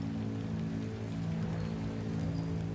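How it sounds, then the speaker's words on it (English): Steady rain drumming on an umbrella held over people caught outdoors in a downpour, a dense continuous patter close overhead with no talk. "The rain's coming in this way and we're holding the umbrella like that."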